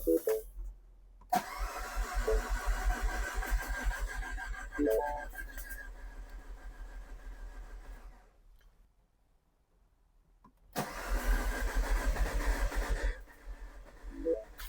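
A classic Mini brought back after five years off the road, cranking and firing on its first start after restoration; two loud bursts of engine noise separated by a quiet gap, with a voice briefly audible.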